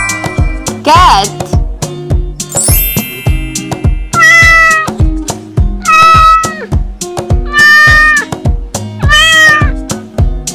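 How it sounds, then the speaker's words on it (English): A cat meows repeatedly, loud and close, with several drawn-out, rising-and-falling cries spaced over a steady patterned background of repeating low tones. "Cat."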